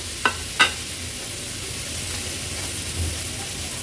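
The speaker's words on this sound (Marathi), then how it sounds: "मसाले तेलावर थोडेसे परतून घ्यायचे आहेत।" Spices sauté in oil with a soft, steady sizzle, marked near the start by two sharp clicks of a utensil, close and without talk.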